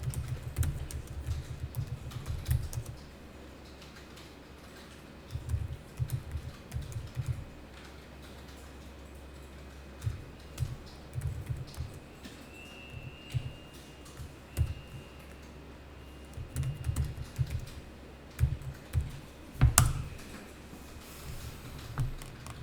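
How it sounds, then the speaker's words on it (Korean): Steady clatter of keys as an address is typed on a computer keyboard in an accounting software lesson, coming in short bursts separated by pauses, close and fairly quiet. "여기다 그냥 타이핑을 하겠습니다"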